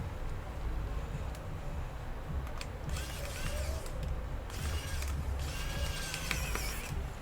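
Screwdriver driving hinge screws back into an HP 13-4102tu laptop, heard as faint creaks and small ratcheting clicks over steady background noise, close by and quiet.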